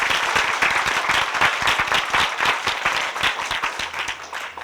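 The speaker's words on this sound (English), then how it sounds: "Please give a round of applause for the graduates." An audience at a 2017 TIGP graduation ceremony applauds the graduates, a dense, steady burst of many hands clapping in a large hall that starts to thin near the end.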